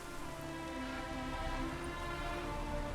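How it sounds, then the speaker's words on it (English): Steady rain falling in The Witcher 3, a dense, even hiss of drops on surfaces with a low rumble underneath, continuous and close throughout with no voices. "Hope it rains like this come sowing time."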